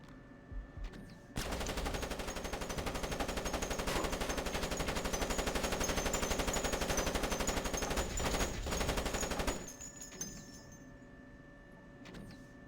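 A turret in the 2002 Splinter Cell video game firing a long continuous burst of rapid machine gun rounds for about eight seconds, steady and fairly loud, then cutting off to a quiet mechanical tail.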